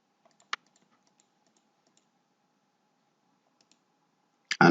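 Sparse, crisp mouse clicks while lines are drawn in a SOLIDWORKS 2019 sketch on the front plane, a few isolated soft ticks spread across a quiet stretch, one sharper click early and a louder burst at the very end.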